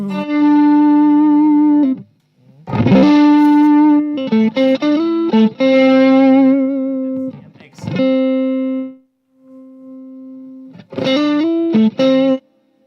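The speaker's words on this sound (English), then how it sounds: "You can tell this is the real Marshall because it makes that double note coming from the power" Distorted electric guitar through a Marshall amp, played in bursts of chords and sustained notes with short pauses, loud and close.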